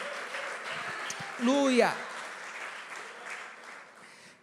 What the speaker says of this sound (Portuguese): Pode aplaudir todo mundo junto, bem forte, igreja.